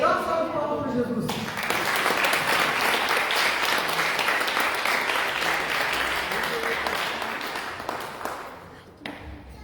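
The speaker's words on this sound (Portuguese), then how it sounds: "Dá uma salva de palmas para Jesus." A church congregation bursts into sustained, loud applause during an evening worship service, a dense wash of clapping that swells after a brief spoken lead-in and fades toward the end.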